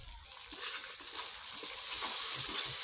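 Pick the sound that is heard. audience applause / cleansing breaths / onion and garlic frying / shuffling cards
onion and garlic frying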